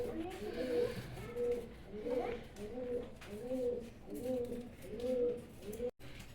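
Racer pigeons, a black-checker pair of Indonesian colour, coo in a steady repeating rhythm of soft, throaty calls, close and fairly quiet, with a faint background murmur.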